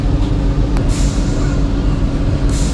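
A Vande Bharat sleeper train pulls out of Howrah station with a steady, loud, close rumble of wheels and machinery throughout, a few brief hissing bursts rising over it, and no voices.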